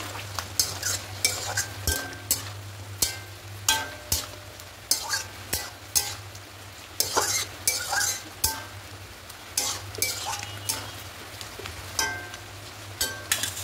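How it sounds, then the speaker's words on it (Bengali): Chicken mixed with crushed spices and two spoons of sour yogurt is stirred in a pan, a close, rhythmic run of spoon scrapes and wet clacks over a soft background sizzle and a low steady hum. "এবার খুব ভালো করে সবটা মিশিয়ে নেব।"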